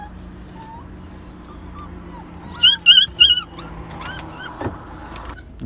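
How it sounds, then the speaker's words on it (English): A mother dog and her puppies found on a road at night, with soft whimpers and high yips, then a burst of louder puppy cries in the middle, over a low background rumble. "So we just found these dogs in the middle of the road."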